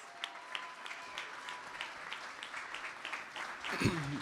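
Audience at a startup pitch competition applauding a speaker, fairly faint scattered clapping across several seconds, with a voice breaking in near the end.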